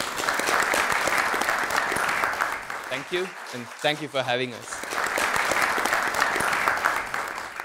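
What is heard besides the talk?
audience applause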